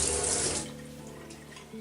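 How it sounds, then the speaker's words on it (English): Kitchen tap water runs hard over a knife blade before onions are cut, a loud close gush that eases to a softer trickle after a moment. "You wet up your blade."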